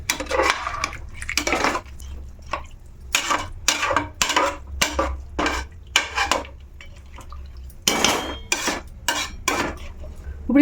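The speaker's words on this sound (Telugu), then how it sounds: "ఇప్పుడు ఇది ఇలా కలిపేసుకొని" A spoon scrapes and stirs a coconut pulao mixture in a metal pot in repeated short, rhythmic strokes separated by brief pauses, close and fairly loud, with no talking over it.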